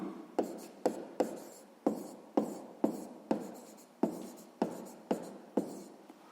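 A pen writes on paper in about a dozen quick, regular scratchy strokes, each a sharp rasp that tapers off, close and fairly quiet with no talking.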